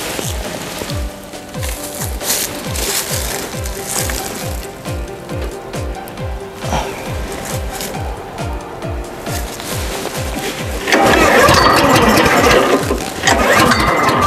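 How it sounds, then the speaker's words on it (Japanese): A J-FAP grass mower's engine cranks with a steady rhythmic chugging, then catches and runs louder and rougher near the end, close and prominent with no talking. "じゃあ早速エンジンを入れていきたいと思います"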